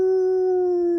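A human voice imitates a coyote howl, a single steady sustained tone held loud and close for about a second.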